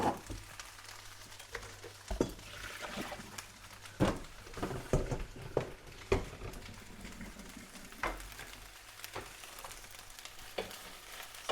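Diced mushrooms sizzle and fry in a fairly dry pan for konjac pasta, a soft, steady crackle broken by occasional louder clinks and scrapes as they are stirred around.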